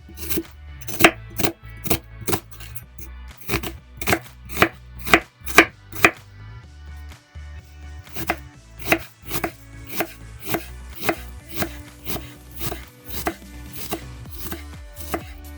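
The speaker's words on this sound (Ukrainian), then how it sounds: "Для приготування червоного соусу дрібно наріжу цибулю." Rapid, rhythmic knife chops finely dicing onion on a cutting board, close and sharp, in quick bursts with a brief pause midway.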